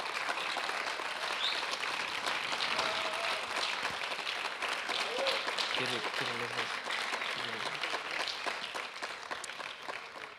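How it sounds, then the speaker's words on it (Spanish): An audience at a church anniversary session claps to welcome a pastor, a dense, sustained round of applause from a large crowd that tapers slightly toward the end, with a voice briefly audible underneath. "le vamos a recibir con un fuerte aplauso"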